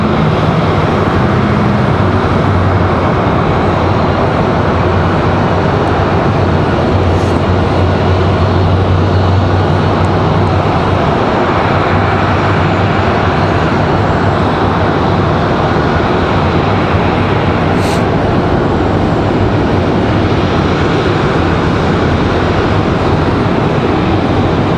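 An airliner near Raleigh-Durham International Airport drones as a steady, loud broadband engine roar with a deep low rumble, holding an even level for the whole stretch with no voices.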